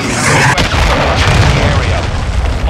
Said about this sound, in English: Hostile cruise missile incoming!